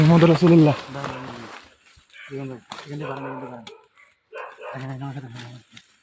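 Dogs in a village courtyard late at night bark and yelp in several close, loud bursts separated by short silences, with people talking nearby.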